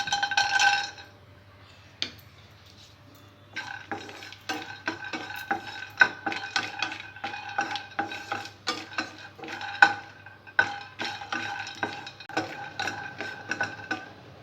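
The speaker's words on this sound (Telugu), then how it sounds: "ముందుగా స్టవ్ మీద ప్యాన్ పెట్టి పల్లీలని డ్రై రోస్ట్ చేసుకోవాలి" Peanuts dry roast in a pan on a stove, stirred with a utensil that scrapes and clinks against the metal in quick repeated strokes. A louder rattle comes at the start, then a brief pause before the rhythmic stirring resumes.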